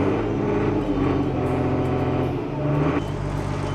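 A restored Fendt 512C tractor drives off, its diesel engine giving a steady, fairly loud rumble that shifts slightly in tone as it pulls away, with no talking.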